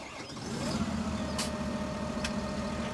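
Fendt 900 series tractor engine from Farming Simulator 17, a steady, loud diesel drone holding an even idle with a constant low hum throughout.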